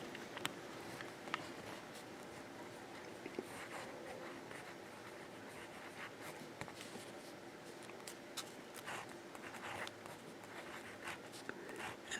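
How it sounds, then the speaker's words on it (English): A Jinhao 159 fountain pen with a broad nib scratches across paper in soft, quiet strokes with small ticks between words, close up and faint, with no voices. "we're going to see how this little Jinhao baby broad nib works"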